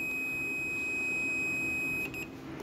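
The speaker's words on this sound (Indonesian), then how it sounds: "Buzzer itu untuk menentukan dia nyambung apa enggak ya teman-teman." Steady high continuity beep from a multimeter buzzer, probes touching a Vespa lamp coil, holding clear and unbroken at close range with a low hum underneath, then stuttering into short pulses near the end.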